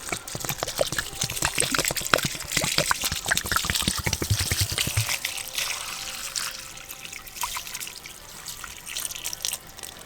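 Murky, sediment-laden water pours out of a car radiator during a JDM B20 engine swap into a Honda CR-V. It starts as a dense, close splashing stream that thins after about five seconds into lighter trickling and dripping.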